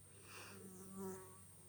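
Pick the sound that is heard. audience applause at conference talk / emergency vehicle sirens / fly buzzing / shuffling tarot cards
fly buzzing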